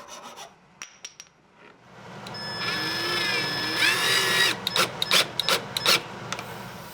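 A power drill drives screws to attach knobs to dowels while building a cajon box drum, a close whirring run of a couple of seconds followed by short bursts of the tool.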